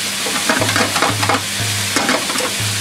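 A large batch of yakisoba fries and sizzles loudly on a griddle in a small shop, with a spatula stirring and scraping in irregular bursts over a constant hiss.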